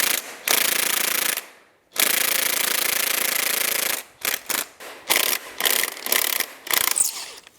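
A ratchet wrench rapidly clicks in long loud bursts, then short choppy strokes, working a stubborn transmission mounting bolt under a 1968 Dodge Coronet V8 four-speed, close to the microphone with brief pauses between runs.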